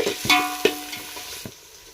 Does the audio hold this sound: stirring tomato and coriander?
yes